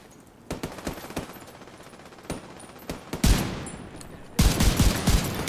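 Pistol fire in the co-op shooter game The Division 2 rings out as a rapid series of sharp, loud shots, some spaced and some clustered into dense volleys, with no talk over them.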